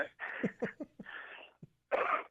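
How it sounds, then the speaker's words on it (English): A run of harsh, breathy coughs in quick bursts, close by, with a short pause before a final louder cough. "Oh, you're coughing."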